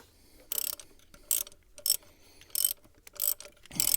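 A ratchet undoes a long spaced thermostat housing bolt on a Citroen DS4 Sport 2.0 HDi diesel. Six short, sharp bursts of close clicking come at a rough, even rhythm.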